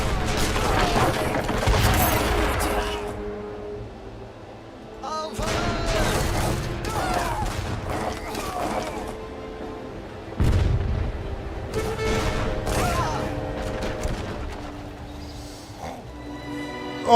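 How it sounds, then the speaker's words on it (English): Heavy cannons fire in a video game battle, with repeated booming blasts and bursts of gunfire-like crackle over a dense, loud backdrop of game noise and music, while a voice speaks intermittently. "Oh, we're bringing in the heavy cannons, are we?"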